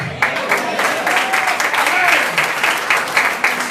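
Audience applause in a church or lecture hall after a talk about the Bible, a dense patter of clapping filling the room with some murmuring voices mixed in.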